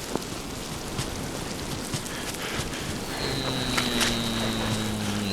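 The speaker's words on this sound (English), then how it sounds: "And it's pissing rain." Steady rain pours down in Miasmata, a dense continuous hiss with scattered drop patters, close and fairly loud, and a faint rising tonal drone joins partway through.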